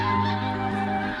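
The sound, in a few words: snow geese honking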